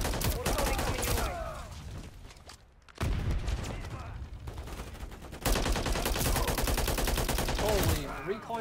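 Heavy-recoil automatic gunfire in Modern Warfare III, loud repeated bursts of rapid shots broken by a short quiet gap, with faint chatter in the background.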